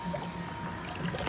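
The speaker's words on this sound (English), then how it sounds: "You can hear the water pump humming away down below." A BMW N54 engine's water pump hums steadily during a coolant bleed on an E90/E92, with faint gurgling and burbling of coolant, heard close and continuous with no talk.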